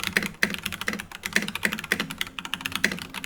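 Typing on a quiet low-profile computer keyboard, a steady run of soft, irregular key taps at close range with no talking.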